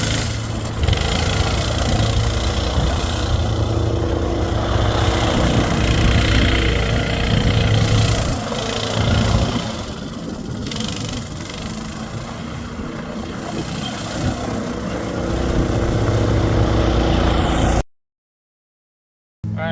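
A Coleman KT196 go-kart engine runs steadily for about eighteen seconds, its buzzing drone rising and falling slightly with throttle before cutting to silence.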